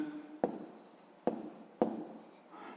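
A pen writes by hand on paper, giving close, soft scratchy strokes with three sharper taps as the tip meets the page, quiet and alone.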